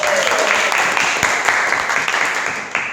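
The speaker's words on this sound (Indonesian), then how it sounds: "Tepuk tangan dulu semua." Applause from an evening seminar audience, a steady wash of clapping that holds for a few seconds and slowly tapers, fairly loud and close.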